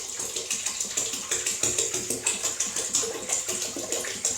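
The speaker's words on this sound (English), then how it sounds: "Obviously can't shake this big bucket to oxygenate it, so pouring it in" Homemade Niagara wine is poured roughly into a large bucket, giving a steady, close splashing gush with a fast rippling pulse throughout and no voices.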